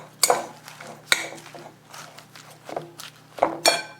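Eggplant lasagna ingredients mixed in a dish, with a few sharp clinks of a utensil against the dish scattered among softer scraping and stirring sounds, close by and with no talk.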